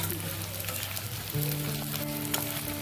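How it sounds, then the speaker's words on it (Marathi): Edible gum (dink) frying in hot ghee for ladoo gives a dense, steady sizzle and crackle, close and continuous, with light stirring noises over it. "हे बघा अशा पद्धतीत हे सगळं डिंक आहे ते मी सर्व डिंक आहे ते मी तळून घेते पटापट।"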